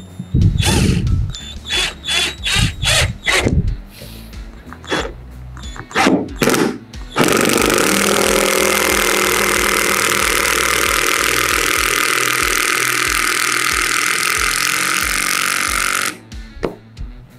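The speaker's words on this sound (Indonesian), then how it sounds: "Suaranya agak keras karena dia impact driver ya" A Mollar CIDR12150N 12V cordless impact driver drives a screw: several short stuttering bursts of trigger pulls, then a loud, steady hammering rattle lasting about nine seconds before cutting off, with a few faint knocks after.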